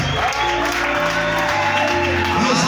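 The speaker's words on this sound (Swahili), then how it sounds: "Makofi kwa Yesu" A church congregation claps together in sustained applause, dense and fairly close, with voices mixed in throughout.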